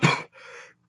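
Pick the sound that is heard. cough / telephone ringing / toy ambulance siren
cough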